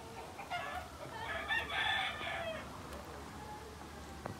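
A chicken calls at an outdoor spot in Mexico, a short clucking, crowing phrase of moderate loudness rising over faint ambient background noise, with no talk over it.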